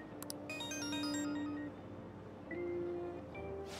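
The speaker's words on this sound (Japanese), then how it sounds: "電話、" A phone in the video game Persona 5 Royal rings with a soft electronic tone, two sustained pitched pulses separated by a pause over a quiet ambient background.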